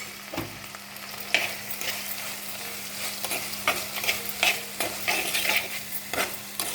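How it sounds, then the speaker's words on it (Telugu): A tempering with salt and turmeric sizzling in a pan for a gram-flour chutney, a continuous close hiss broken by repeated spoon scrapes and stirring clatter, with a faint low hum beneath and no talk. "ఇప్పుడు ఈ పోపు బాగా వేగిందండి."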